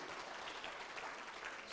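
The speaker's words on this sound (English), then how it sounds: "we should give a big applause to these two." Applause fills a conference hall in a steady dense patter, with no voices rising above it for the short stretch it lasts.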